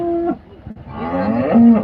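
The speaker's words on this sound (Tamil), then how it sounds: "நல்லா கறக்கக்கூடிய மாடு இது" A dairy cow at the Karungalpalayam cattle market in Erode lows loudly and close by, one drawn-out moo rising and wavering, then a second call with a brief pause between, and no talk over it.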